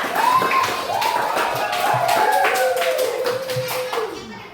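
A classroom group applauding the fourth group of students: steady, close, rapid clapping from many hands throughout, with a high voice calling out over it before the clapping tapers off.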